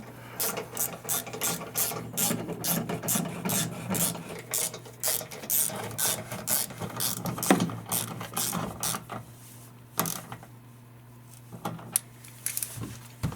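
A 10mm socket on a ratchet wrench tightens the bolts of OEM skid plates on a Lexus GX, with rapid, close pawl clicks in fast bursts, then a few slower isolated clicks near the end.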